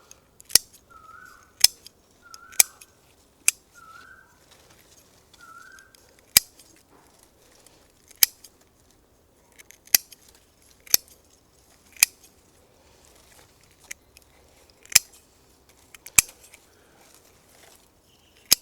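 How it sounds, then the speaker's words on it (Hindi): Garden scissors snipping excess roots from a plant being divided, a dozen crisp sharp snips spaced irregularly, close and clear against near silence. "ये जो एक्सेस रूट है इसको हम काट सकते हैं।"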